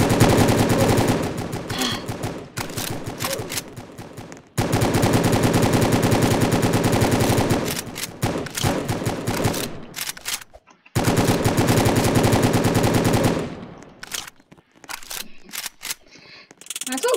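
Loud automatic gunfire from a gun in a video game, long sustained bursts of rapid shots broken by brief silences, close and dominant.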